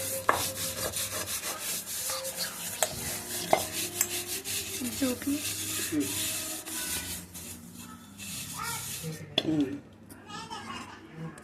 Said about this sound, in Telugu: గిన్నెకు రుద్దాలి.